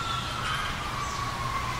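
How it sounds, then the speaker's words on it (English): A distant wailing siren with a steady high tone hangs over low traffic rumble, no voices present. "You can probably hear the sirens on the video."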